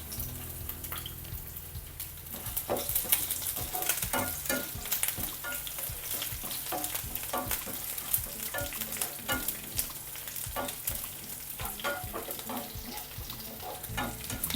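Garlic and small shallots frying in a pan for a capsicum fish curry, giving a continuous, moderate crackling sizzle with frequent spatula clicks and stirring scrapes, no voices.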